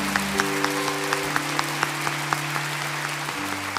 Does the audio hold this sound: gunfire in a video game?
no